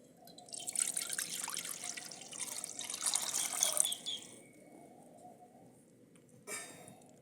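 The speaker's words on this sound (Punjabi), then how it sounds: "ਪਾਣੀ ਪਾਵਾਂਗੇ" Water splashes and trickles into a kadai for cooking noodles, a quiet pour lasting a few seconds, then a softer trickle and a short final splash.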